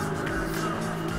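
BMW M3 engine in the racing game Need for Speed Most Wanted, a steady close mid-pitched drone that hums evenly and does not roar, filling the clip alone.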